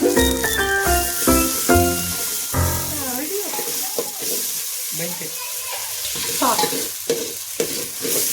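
Onions and green chillies fry and get stirred in a pan, a close sizzle broken by scraping, clattering stirs and a brief splash of water, with no voices.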